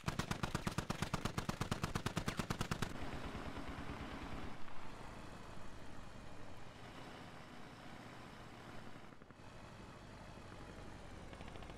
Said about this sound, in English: it looks like he's going to return fire with it.